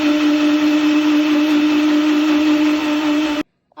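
A countertop blender whirs steadily for several seconds, churning lemon, ginger, mint and sugar into juice, loud and close with no talk, then cuts off abruptly.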